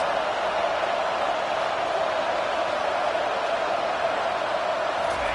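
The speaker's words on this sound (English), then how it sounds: "3rd down, and this crowd is bringing down the house." A football stadium crowd roars on a third down in a tied Arkansas–Wisconsin game. The noise is a dense, sustained and even wall of sound from start to finish, with no distinct voices standing out.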